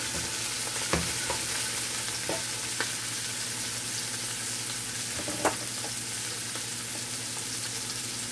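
Collard greens and peppers cooking in a pot, giving a steady, even sizzle throughout with a few faint clicks and taps from stirring.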